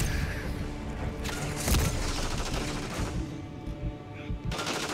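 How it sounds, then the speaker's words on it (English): Gunfire in a first-person shooter free-for-all match, with bursts of rapid automatic shots and impacts over about five seconds, loud and close with some busy game noise around them. "I'm getting shot from everywhere."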